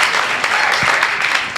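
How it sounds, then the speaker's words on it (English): A studio audience applauds during a live show for a man celebrating his birthday, a loud, dense round of clapping that carries on steadily from start to finish. "Let's have a round of applause."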